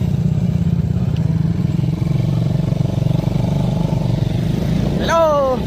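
A Suzuki 115 Fi motorcycle rides up a trail, its engine putting out a steady, close, low-pitched chug under the riders' voices, which call out briefly near the end.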